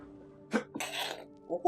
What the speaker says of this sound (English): Little sneeze.